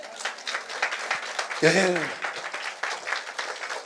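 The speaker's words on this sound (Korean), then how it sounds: "박수 쳐드려요" Church congregation clapping during a Sunday afternoon service, a light, patter of hands throughout with a brief spoken voice cutting in midway.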